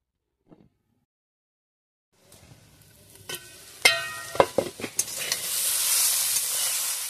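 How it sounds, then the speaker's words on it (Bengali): Gira greens and potato stirred and fried in a pan over a low flame: after a brief tap and a quiet start, a steady sizzle builds, broken by several sharp spatula scrapes and clanks, with no talk. "কম জ্বালান দিয়ে আলুটা শাকটা কষিয়ে নিতে হবে।"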